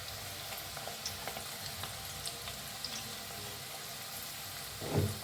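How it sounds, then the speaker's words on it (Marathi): Onion, crushed garlic and chilli, ginger and asafoetida fry and get stirred in plenty of oil for a mixed vegetable dish. A steady, moderate sizzle runs throughout, with a soft thump near the end and no talk. "हिंग हलवून भाजून घेऊया।"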